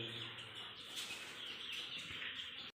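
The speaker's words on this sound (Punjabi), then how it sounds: "ਇਹ ਕਬੂਤਰੀ ਉੱਡੀ ਜਾਂਦੀ ਆਪਣੀ" A pigeon flies off with a short burst of wing flapping, close and fairly faint, over a steady background hiss and brief bird chirps.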